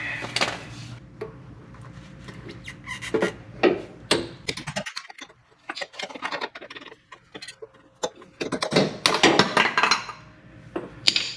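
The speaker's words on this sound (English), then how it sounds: "It's like some hammering is gonna have to take place." Irregular metallic knocks and clanks ring out close by as a hammer strikes the driveshaft of a 1996 Toyota truck, bursts of strikes separated by short pauses, with no talking.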